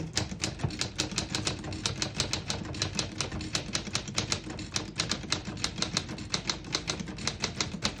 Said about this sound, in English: All around beautiful typewriter.